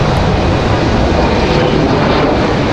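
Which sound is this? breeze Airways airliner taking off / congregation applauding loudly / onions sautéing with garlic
breeze Airways airliner taking off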